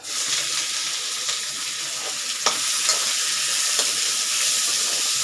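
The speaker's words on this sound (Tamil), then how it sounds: "இப்போது வெங்காயம், பச்சை மிளகா, பூண்டு, கருவேப்பிலை எல்லாம் சேர்த்துக்கலாங்க." Onion, green chili, garlic and curry leaves frying in hot oil for avarakkai poriyal, a steady close sizzle with a few sharp stirring clinks and scrapes of a spoon in the pan, no talk.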